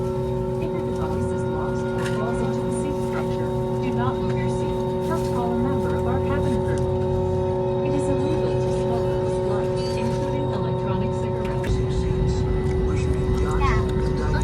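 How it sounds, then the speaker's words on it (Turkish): Airliner cabin during the takeoff roll: a steady, loud engine roar with tonal hum that builds and swells toward the end, while people talk over it. "Bak hızlanacak şimdi birden havaya kalkacak."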